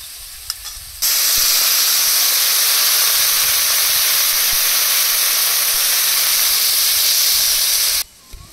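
Water hits a pan of fried onion, garlic and chilli with a sudden loud, continuous steamy sizzle that holds for several seconds close up, then cuts off abruptly.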